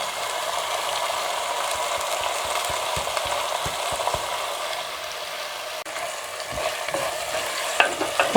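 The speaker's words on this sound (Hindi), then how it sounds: "2 से 3 मिनट के लिए मैंने पालक को अच्छी तरह फ्राई कर लिया।" Spinach frying in a pan for a home-style aloo moongre sabzi, a steady close sizzle with scattered stirring scrapes and clicks throughout, no voices.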